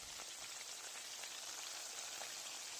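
Chicken frying in hot oil in a pan, a dense, even crackling sizzle that holds steady and close throughout.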